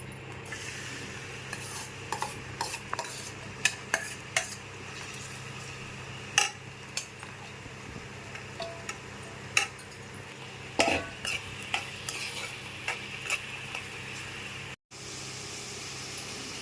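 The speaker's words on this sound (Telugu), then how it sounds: "ఇప్పుడు ఉల్లిపాయలు పచ్చిమిరపకాయలు వేగిస్తానండి" Onions and green chillies fry in oil in a kadai for an Andhra-style onion and drumstick curry, a steady low sizzle with occasional clinks and scrapes of a stirring spoon against the pan throughout.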